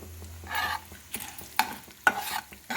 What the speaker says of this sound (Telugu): పొయ్యి మీద వేసుకుందాం ఫస్ట్ పోపు వేసుకుందామండి